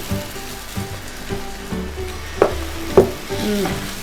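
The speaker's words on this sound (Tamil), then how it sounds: "இப்போ நம்ம தோசை ஊற்றிப்போம்" Dosa batter spread onto a hot oiled pan gives a close, steady sizzle, broken by soft scraping strokes and a few light taps of a ladle against the pan.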